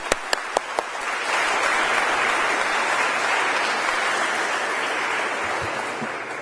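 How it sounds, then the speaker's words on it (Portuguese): A few isolated claps, then a crowd at a public gathering breaks into loud, sustained applause for a magistrate, a dense even roar that lasts to the end with no speech. "uma salva de palmas para esse grande magistrado da democracia brasileira"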